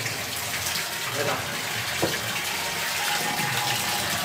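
Water gushes steadily from a tap through a freshly unclogged pipe in a home, a loud continuous rush that never lets up, with a voice briefly heard over it.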